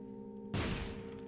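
A bomb blast in The Binding of Isaac: Repentance: one sudden, loud burst that fades over about half a second over steady, humming game music.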